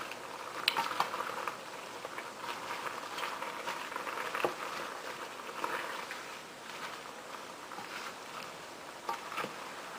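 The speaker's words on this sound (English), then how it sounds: "Give it a nice stir." Eggplant chicken stew is stirred in a pot, with soft wet sloshing and scraping, occasional light clinks of a utensil against the metal, and a gentle bubbling simmer throughout, close and quiet with no talking.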